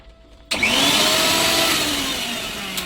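A mixer grinder starts abruptly after a quiet moment and keeps running loud and steady, a close whirring motor drone with a slight pitch sag near the end.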